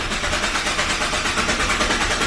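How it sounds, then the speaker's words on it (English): A car engine starting up in neutral and settling into a steady, broadband running noise, heard up close with no talking. "Start the car up in neutral."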